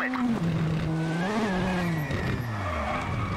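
Hard braking of a rally car in the racing game WRC, a loud continuous tyre squeal with a sliding pitch that drops over a few seconds above steady engine noise.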